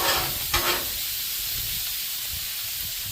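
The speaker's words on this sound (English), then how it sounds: "we're going to get the bacon and stuff browned, and we'll get this sausage browned real easy" Bacon and sausage browning on a Blackstone griddle give off a steady, loud broadband sizzle and hiss throughout, with a brief scrape or stir early on.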